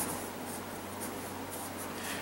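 Steady scratchy rasp of a soft 6B graphite pencil shading across paper during caricature drawing, close and continuous with a faint background hum.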